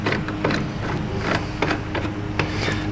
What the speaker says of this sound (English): Torque them to factory specs